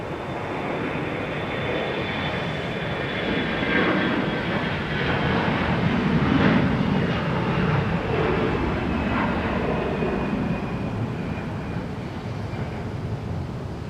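An Airbus A330neo jet airliner departs from Minneapolis–St. Paul airport, a broad steady engine roar with a faint whine, loud and sustained throughout with no voices.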